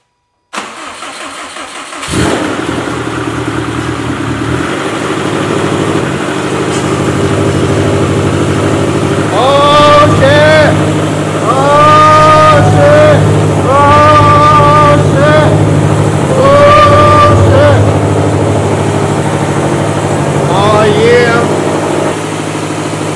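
A big-turbo Subaru STi engine cranks and catches, then settles into a rough idle before a series of sharp throttle blips rise and fall in close succession. The engine is loud and close, with no talking over it.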